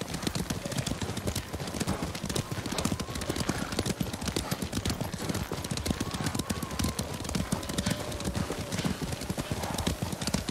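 Horse hooves from a ride in the video game Ghost of Tsushima beat out a fast, continuous clip-clop, loud and close, with a brief whinny-like tone partway through.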